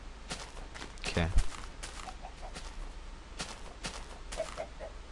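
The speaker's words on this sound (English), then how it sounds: "Chickens." Chickens in the video game Minecraft cluck in a few short, faint bursts, heard alongside soft footsteps and other game sounds.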